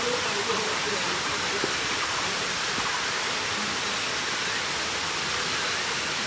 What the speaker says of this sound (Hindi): पानी का शोर आपको आ रहा होगा, मगर पानी बहुत ज़्यादा नहीं है